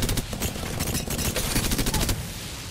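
The Prowler submachine gun in Apex Legends firing in select-fire mode: a loud, rapid stream of close gunshots in quick repeated bursts over a steady low game rumble, with no talk during the shooting.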